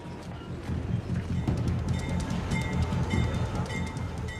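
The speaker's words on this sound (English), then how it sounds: "At the next station, the train slows down." A freight train rolls along steadily at close range, with a continuous low rumble, rhythmic clatter of wheels over rail joints and scattered metallic squeaks and clanks, no voices present.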